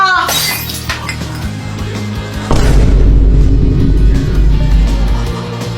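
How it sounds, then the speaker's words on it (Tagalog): A vase shatters indoors with a sharp, bright crash, and a heavy low boom and rumble follow a couple of seconds later. Background music plays throughout. "Hala ka, Kuya Jepoy, nabasag mo yung base ni Mama"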